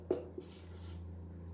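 Writing strokes on a board: a couple of sharp taps near the start, then a soft, scratchy stroke lasting under a second over a steady low room hum.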